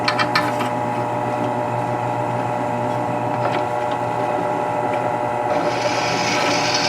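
A power drill hums steadily and loudly at close range, drilling a hole for a riding mower leaf mulcher chute block, its motor grinding continuously with slight shifts in tone near the end.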